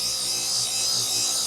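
A BATOCA cordless car polisher sander runs steadily on setting 6, giving a continuous even whirring buzz that stays close and constant throughout.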